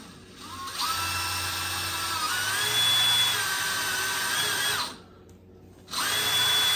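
Power drill boring into wooden floor trim with a larger bit, a loud whining spin that holds steady for several seconds, stops briefly, then starts again.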